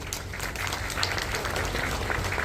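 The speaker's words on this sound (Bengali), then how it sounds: "তার জন্য একটা জোরে হাততালি চাইব।" An audience claps loudly and continuously at a stage tribute concert for a composer, with dense, sustained applause filling the whole moment and no voices above it.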